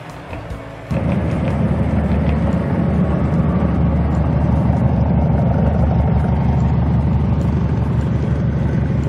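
A diesel multiple unit train engine starts up and runs steadily, a loud, deep rumbling throb with a rhythmic thumping quality that continues without a break.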